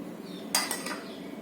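Spoon clinking and scraping in a bowl while aloo kabli is mixed with yogurt and tamarind juice, a couple of sharp metallic clinks followed by softer stirring, close and fairly quiet.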